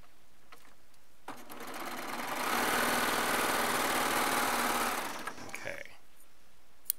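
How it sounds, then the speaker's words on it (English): A Baby Lock serger stitching fabric strips together runs as a steady, loud mechanical whir for about four seconds, then stops. Light handling noises come before and after, and a voice speaks briefly. "And sew these two together."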